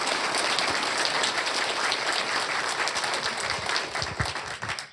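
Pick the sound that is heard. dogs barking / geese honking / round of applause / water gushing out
round of applause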